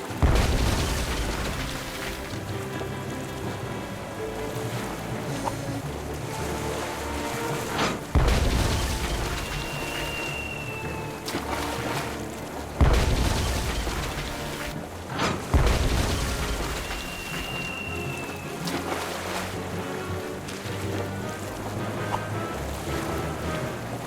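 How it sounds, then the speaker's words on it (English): Cannon fire in the Tales of Monkey Island pirate adventure game, with several deep booming blasts spaced across a backdrop of ocean waves and continuous game music. "It is for me to shoot the cannon"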